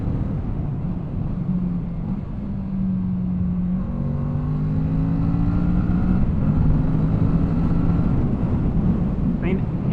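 A Kawasaki Z650 motorcycle engine pulls steadily through the gears on the road, its tone rising and shifting under constant loud wind rush, with no pauses.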